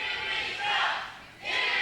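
Wrestling fans at the NWA Arena roar and chant in swelling waves during a heavyweight title match, the cheering rising, dipping briefly, then surging again.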